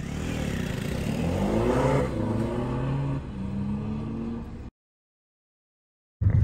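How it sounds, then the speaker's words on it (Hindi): A car engine runs and climbs in revs with rising tones, then cuts off into silence before a brief loud burst at the end; no one talks. "और भाई एक बार अपनी गाड़ी की ना आवाज सुनना भाई,"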